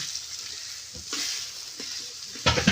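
Onions crackle and sizzle in hot oil for a brinjal and potato bhaji with homemade masala: a steady close hiss with scattered pops and a louder burst of crackling near the end.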